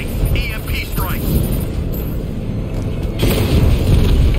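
A loud EMP strike detonates against a tank in Batman Arkham Knight on PS5, a deep rumbling boom that rolls on under steady game noise and swells again near the end.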